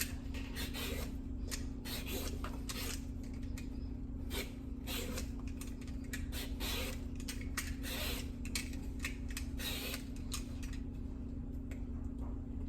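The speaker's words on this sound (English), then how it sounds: "Peeling eggplant's pretty easy." A peeler scrapes skin off an eggplant in quick, repeated rasping strokes, close and steady over a low constant hum.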